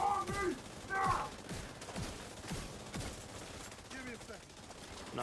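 Gunfire in The Division 2 during a boss fight: several bursts of rapid shots and scattered single cracks at moderate distance, with players talking over them.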